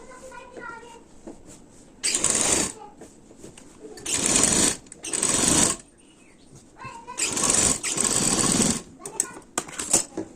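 Sewing machine stitching the crotch (miyani) piece of a salwar, running in several loud, rapid whirring bursts separated by pauses, with someone talking quietly between runs.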